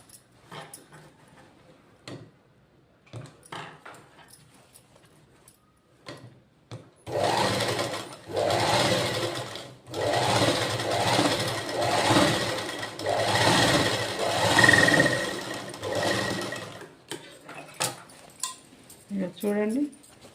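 A sewing machine runs in a steady burst of stitching through fabric for roughly ten seconds, loud and continuous, with quiet handling sounds and brief talk before and after.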